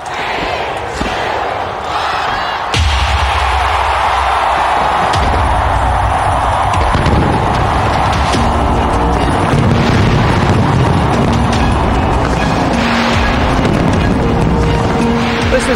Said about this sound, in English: Sydney hosting its annual fireworks extravaganza to welcome in the new year.